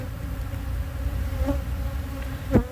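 Honey bees buzz around hive frames of brood in a continuous, close, steady drone, with a brief knock near the end.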